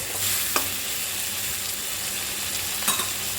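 Tomatoes with salt fry in a pan for chutney, making a steady soft sizzle with a couple of brief scraping stirs. The sound is moderately faint and there are no voices.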